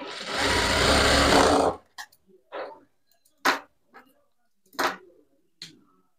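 A sewing machine stitches a blouse seam in one loud, fast whirring burst of about two seconds. Scattered light clicks and knocks follow as the fabric is handled.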